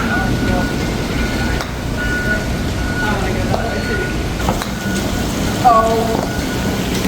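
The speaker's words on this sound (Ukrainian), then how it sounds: "Трішки дощик накрапує, але зате свіженько." Light rain drizzles steadily outdoors, a continuous soft hiss around a family walking at Myrtle Beach, with scattered faint clicks and thin tonal sounds in the background.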